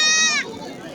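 A goat at a busy goat market gives one short, high bleat, with people talking faintly in the background.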